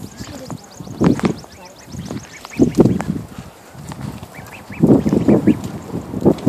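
Baby ducks quack and peep among a flock of chickens, bursts of nasal calls in several clusters with high chirps between, close by, and a voice speaks softly in the background.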